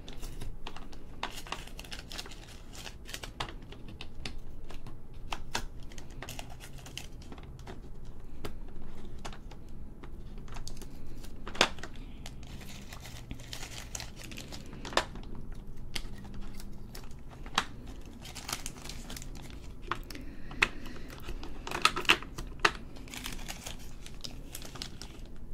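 Stickers being peeled off a diamond painting canvas by fingernail, giving a steady run of close, soft crinkling and tapping with frequent sharp ticks and crackles, no talking.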